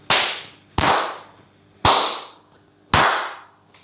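Four single sharp hand claps in a fully tiled bathroom, each followed by a bright, fairly short reverberant decay, evenly spaced with no voices.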